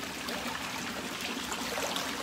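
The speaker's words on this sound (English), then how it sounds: "But waterfalls with lights in them." Running waterfall features on a home swim spa, a steady close hiss of falling and splashing water that stays even and unbroken, with no talking.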